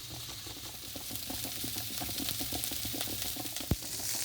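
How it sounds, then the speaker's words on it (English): Carrots and other vegetables sizzle in a very hot frying pan, a steady quiet crackling hiss with a faint stirring scrape and one sharp knock near the end. "They'll go straight into the frying pan."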